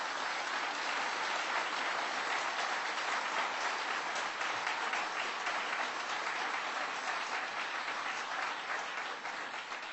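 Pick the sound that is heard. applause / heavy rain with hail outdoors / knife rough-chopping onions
applause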